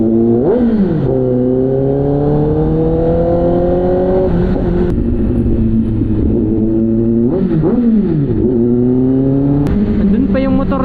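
A Kawasaki ZX10R motorcycle engine revs hard and close in several sharp surges, each rising and falling in pitch over a loud, steady idle growl.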